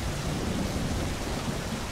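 Rain in the video game My Summer Car, a dense, even rushing hiss of downpour filling the sound with no breaks and no voices.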